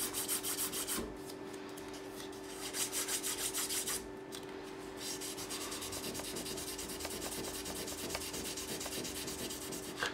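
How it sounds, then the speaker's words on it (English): Steady back-and-forth rubbing of fine-grit wet and dry paper over guitar frets, close and continuous, each stroke rasping evenly with no speech. "So I've gone back to using wet and dry paper like this."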